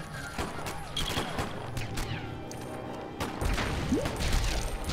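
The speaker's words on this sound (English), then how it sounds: "Stop shooting at me!" Gunfire crackles in a LEGO Batman game as repeated sharp shots pop in irregular bursts amid clattering action noise, fairly close throughout.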